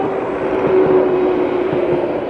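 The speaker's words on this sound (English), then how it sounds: "I hear a train. There it is." A passing Bedford to Bletchley train makes a loud, steady rumble with a sustained tonal hum, heard close by and without voices, beside a stopped Lexmoto Titan motorcycle.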